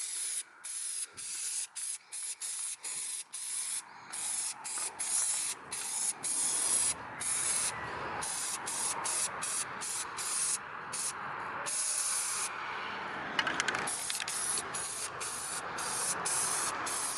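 Short and long bursts of aerosol spray paint hiss from a can coating a vehicle brush guard and undercarriage. The bursts are close and repeated, split by brief pauses, with no talking.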